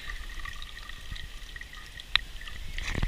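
A thin, steady trickle of water runs from an outdoor water fill-up fountain, faint and close, with one sharp click partway through.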